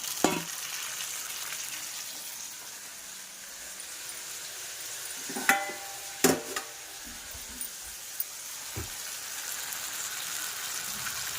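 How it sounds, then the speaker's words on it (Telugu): Small tomatoes sizzle and fry steadily in a pan for chutney, a close, continuous hiss broken by a few sharp clinks of a spoon stirring against the pan. "ఈ ముక్కలు వేగిన తర్వాత ఇందులో టమాటాలు వేసుకొని"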